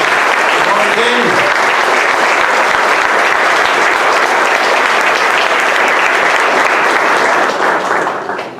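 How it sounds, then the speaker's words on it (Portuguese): A church congregation at an Easter resurrection service applauds loudly and steadily, with dense, sustained clapping filling the room for several seconds before it begins to fade. "que as palmas louvem ao nosso Deus"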